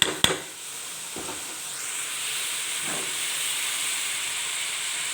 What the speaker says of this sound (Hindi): हमारी जो वेजिटेबल्स हैं वो अच्छे से फ्राई हो रही हैं